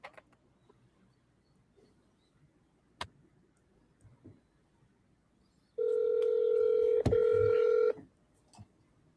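An outgoing telephone call gives a single steady tone lasting about two seconds, broken briefly midway by a click, amid quiet room noise and a few faint taps.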